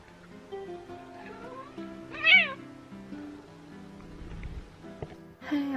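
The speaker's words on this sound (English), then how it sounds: "I have my cat" A pet cat meows a few times indoors, with a couple of clear rising mews standing out over a quiet background hum, and one more starting at the very end.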